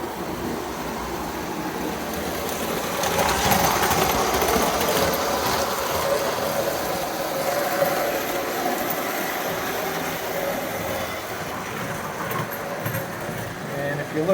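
A prewar Lionel Union Pacific M-10000 streamlined model train runs steadily with a continuous mechanical whir and rattle, moderately loud throughout.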